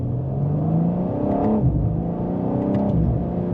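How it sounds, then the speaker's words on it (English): A 2025 BMW M4 Competition accelerating from second gear, its engine drone holding a steady mid-pitched tone heard from inside the cabin, with a brief dip and change near the middle like a quick shift. "as we can give it another acceleration here from second gear"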